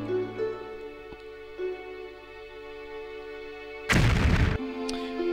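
A single loud explosion in the game Crazy Machines, a short dense blast near the end that rises over a quiet tonal music bed with a few soft clicks.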